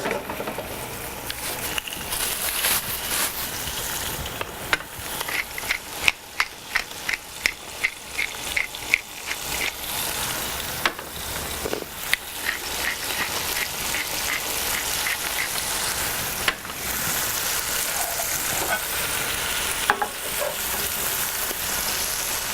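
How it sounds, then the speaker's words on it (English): Chicken pan searing in a hot pan for sweet potato noodles, a continuous loud sizzle broken by rapid crackling spatters and bursts of pops, with no talking. "I want it to pan sear, so I want to see some browning."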